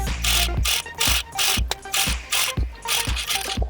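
A sewing machine stitches bias tape onto a baby bib, its needle mechanism clacking in a steady, loud, repetitive rhythm of about two strokes per second, close up with no voices.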